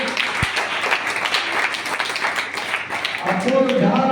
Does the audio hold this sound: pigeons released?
no